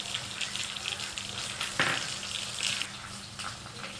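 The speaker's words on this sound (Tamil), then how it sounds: "தாளித்து கொட்டியாச்சு" Tempering sizzles and crackles as it is poured into cluster bean kootu with dal, a close hiss of hot oil with a sharp burst near the middle and another flare soon after, then a settling fizz.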